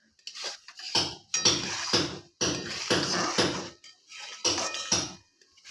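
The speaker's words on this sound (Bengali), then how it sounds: "আমি খুব ভালো করে এটা নেড়ে চেড়ে নিচ্ছি" A spatula scrapes and clatters against a pan in repeated rhythmic bursts as boiling raw mango jelly is stirred, close and fairly loud with brief pauses between strokes.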